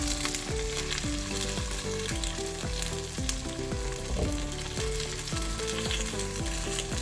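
Chopped tomato and okra sauté in a pan for papaya sambar, a loud continuous sizzle running under a rhythmic melodic music track with no speech.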